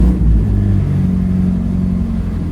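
A K-swapped Honda Civic race car engine struggles to idle in cold blizzard weather, a loud close low rumble with uneven wavering pitch that sags and dips steadily over a couple of seconds, with no one talking.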